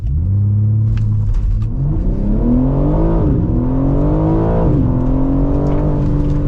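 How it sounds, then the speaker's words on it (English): A 2025 BMW M3 Competition in Sport Plus launches hard under launch control. Its engine roars loud and close, climbing steadily in pitch, with brief dips at gear changes before it pulls again. "my favorite thing about this car is we have launch control"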